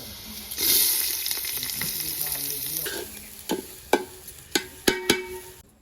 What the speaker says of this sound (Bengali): তো গাইজ আমরা চাল দিই পুরো ভাজা হয়ে গেছে গা।